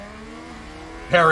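Race car engine from the F1 Manager 2022 video game, a steady hum that suddenly swells into a loud, harsh burst near the end as a car spins out.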